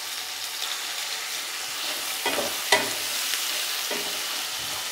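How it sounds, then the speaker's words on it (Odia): Onions frying in a pan for peanut potato curry give a steady, close sizzle throughout, with a couple of soft stirring clinks. "ପିଆଜ ଟିକେ ବ୍ରାଉନ୍ କଲର୍ ହେଲା ଯାଏଁ ଆମେ ଭାଜିବା।"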